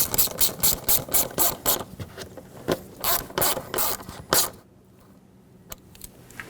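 A hose clamp screw being tightened on a 2008-2020 Dodge Grand Caravan 3.6L gives a close, loud run of rapid ratchet clicks in quick bursts. The clicking stops for a moment, then a few isolated clicks follow.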